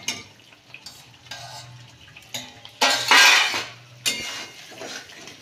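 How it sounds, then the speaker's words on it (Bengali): Cauliflower florets stirred in a pan with green peas and sugar, a few sharp scrapes and clinks of the utensil against the pan over soft frying, growing busier and louder partway through, no voices. "ফুলকপিটাকে দিয়ে ভালো করে নেড়ে নেব।"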